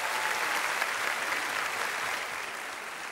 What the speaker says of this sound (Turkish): Evet, Best Model'larımıza bir büyük alkış alalım şöyle.